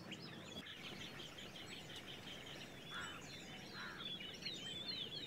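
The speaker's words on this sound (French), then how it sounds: "Mais les oiseaux n'ont pas déserté le parc." Birds call and chirp in Yala park, Sri Lanka, during a dry spell, with scattered high tweets and a few louder calls over a quiet outdoor background.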